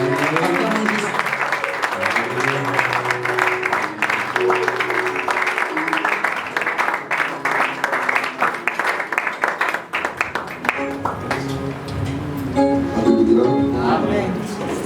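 A church congregation applauding, a dense sustained patter of many hands clapping that fills the room for several seconds, with voices and tonal sound mixed underneath.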